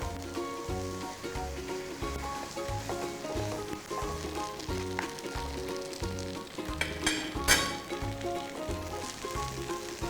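Glass noodles stir-fried with dark soy sauce in a pan over raised heat, a steady close sizzle with rhythmic scraping and tossing strokes of the utensil, alone without talk.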